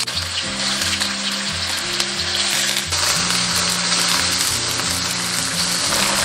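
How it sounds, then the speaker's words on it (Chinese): Tofu pan-fries slowly in a little oil over low heat, a loud continuous sizzle and crackle close up, with a low steady hum underneath. "然后加入豆腐，小火慢煎。"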